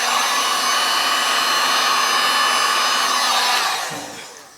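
A torch heating resin roars as a steady, loud broadband hiss, holding constant for nearly four seconds and then tapering off as the flame is pulled away.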